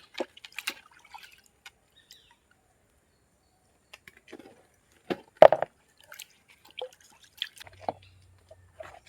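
Taro leaves and vegetables are rinsed in water, producing sparse, quiet drips, small splashes and wet squishes scattered across long stretches of near silence.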